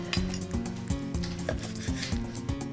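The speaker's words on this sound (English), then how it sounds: "So I'm just gonna put them on the board. I'll show you how I cut them. So I'm just gonna do slices like that." A knife cuts slices of cooked meat on a board in a steady rhythm, each stroke landing as a distinct clack roughly twice a second, close and fairly loud, with no talking.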